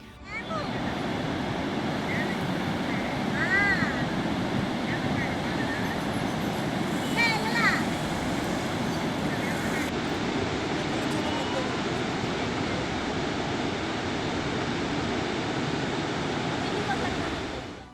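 Floodwater pours through ten raised crest gates of the Srisailam dam, a massive continuous roaring rush filling the whole scene, with a voice speaking over it and a few faint chirps above the torrent.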